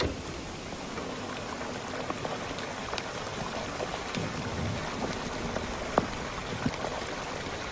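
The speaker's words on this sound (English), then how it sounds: "we sprayed water on the coals and we got all this really incredible crackling and gurgling and all sorts of lava type sounds" Water sprayed onto hot burning coals gives a dense, steady hiss of crackling and bubbling gurgles, with scattered sharper pops and snaps throughout, close and continuous.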